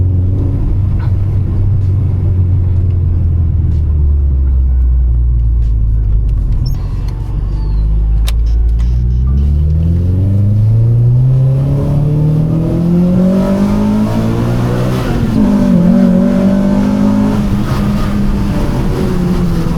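A 2000 Honda Civic SiR engine while driving, heard from inside the car as a loud droning rumble that rises and falls in pitch through acceleration and gear changes, continuous with no talking.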